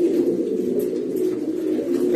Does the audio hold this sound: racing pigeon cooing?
yes